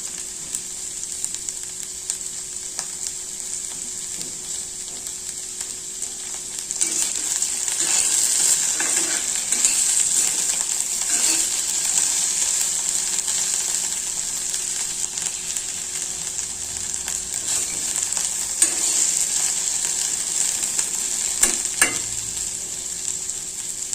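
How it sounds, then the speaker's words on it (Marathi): Okra bhaji sizzles in a pan, a steady close frying hiss throughout, with occasional scraping stirs and soft clinks punctuating the sound in the latter half. "भेंडीची भाजी शिजत आहे"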